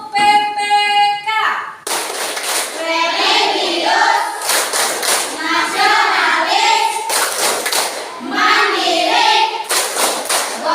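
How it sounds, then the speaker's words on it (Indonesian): A standing class performs the rhythmic PPK clapping chant: loud, sharp claps in repeated bursts with voices chanting together between and over them. "Semuanya berdiri, kita tepuk PPK."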